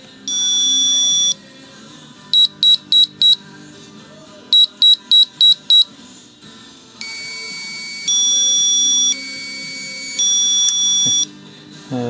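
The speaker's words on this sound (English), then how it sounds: "turning on the timers, and you just get to hear those working" Electronic timers wired up during final assembly and mirror testing of LRO beep loudly when switched on: long steady tones, two quick runs of four short beeps, then more sustained tones over a low background hum.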